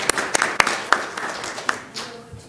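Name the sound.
audience applause at board meeting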